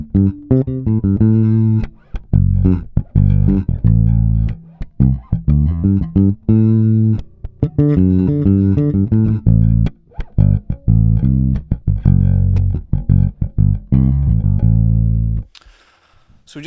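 Electric guitar plays a funky phrase built on a pentatonic scale with an added major sixth, loud and continuous with quick rhythmic notes and short chordal stabs, ending in a brief noisy pause.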